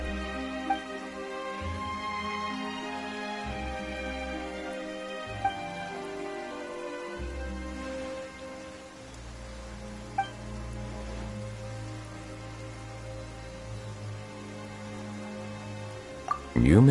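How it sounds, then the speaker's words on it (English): Steady rain patters across a Genshin Impact game scene, a continuous soft hiss of drops layered under game music with low tones, with a few brief clicks and a louder burst at the very end. "Why is it raining all of a sudden?"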